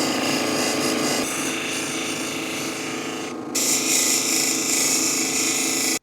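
A 280 grit polishing wheel grinding an orange gemstone gives a steady, loud abrasive whir with constant rubbing texture, brightening and intensifying partway through, with no voices.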